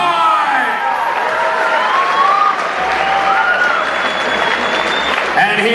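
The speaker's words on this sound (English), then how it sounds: "Clap your hands, please, everybody." Audience at a brony fan convention clapping and cheering, steady loud applause with whoops and shouted voices rising over it throughout.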